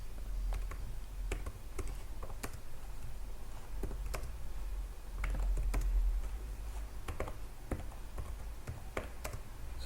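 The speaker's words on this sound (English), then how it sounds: "And now I'll be typing the join query." A SQL join query is typed on a computer keyboard, with quiet, irregular key taps and occasional sharper clicks over a low background hum and no talking.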